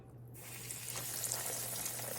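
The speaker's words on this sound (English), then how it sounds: "you hear that sizzle?" Hot oil starts hissing and crackling a moment in as green tomatoes go into a skillet, a soft, continuous sizzle that holds steady over a faint low hum.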